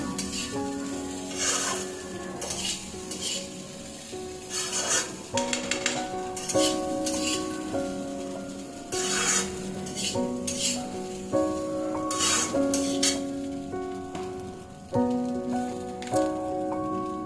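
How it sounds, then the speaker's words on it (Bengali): Flattened rice (poha) is stirred and mixed in a pan, with scraping, rustling bursts heard under a continuous melodic music backing. "এবার এর মধ্যে আমি চিড়েটাকে দিয়ে দেবো। সুন্দর করে মিশিয়ে নেব।"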